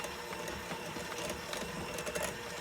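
An electric mixer whirs steadily while mixing banana bread batter, a dense, continuous mechanical buzz that stays loud and even throughout with no voices.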